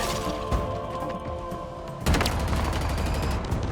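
Rapid gunfire from Halo Infinite combat, bursts of shots with a heavy thump midway and the firing growing denser, loud and continuous.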